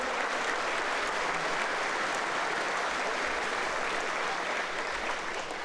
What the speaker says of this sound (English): How about a round of applause for South Glengarry's Andrew Monroe?